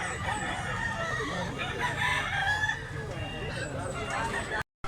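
Roosters crow and hens cluck in a busy outdoor setting in Mantalungon, Cebu, with people talking over the birds throughout.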